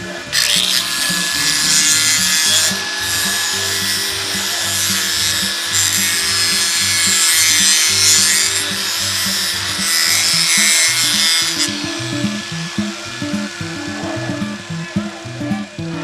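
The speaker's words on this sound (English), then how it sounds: "I use a tooth-o-matic, which is pretty much a 4-inch angle grinder with a stone blade on it, so I kind of grind it down" A four-inch angle grinder fitted with a stone blade grinds down an alpaca's teeth, giving a loud, steady abrasive whine with rasping texture that eases and turns choppier toward the end.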